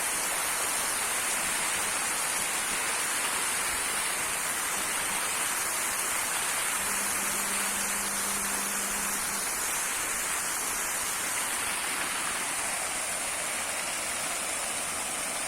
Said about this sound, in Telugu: దాదాపుగా ఇందులో ఉన్న అన్ని వాటర్ పంప్స్ అన్ని పనిచేస్తున్నాయండి. అన్నిట్లో దాదాపు వాటర్ వస్తూనే ఉన్నాయి